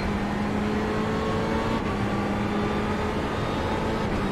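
A Ferrari engine roars steadily at a Ferrari track in a racing video game, a continuous, loud sustained drone with faint pitch shifts and no voices.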